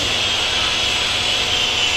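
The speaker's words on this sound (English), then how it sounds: "This is people restoring their carriages." Steady broadband whirring of power tools during repair work on heritage railway carriages, a continuous loud drone with a strong hiss and no breaks, with no voices.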